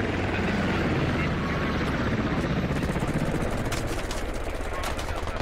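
Gunfire in the video game Squad Ops, dense bursts of automatic rifle fire crackling over a loud rumbling background, continuous and close, with a voice talking over it.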